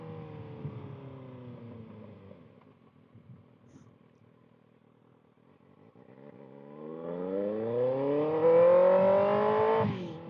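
A 2025 Kawasaki ZX6R fitted with a Voodoo Racing slip-on exhaust rides along a road, its engine droning at a moderate pitch, easing off, then climbing loudly through the revs toward a high wail before dropping at the end.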